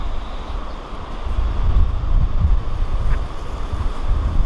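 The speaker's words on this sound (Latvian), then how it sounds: "Jūra tur diezgan skaļa, un tagad ir jūtams, ka vējiens tā nedaudz." Steady wind rushing across the microphone with a low rumble of sea surf beneath it at Pescara beach, continuous and fairly loud, with no voices.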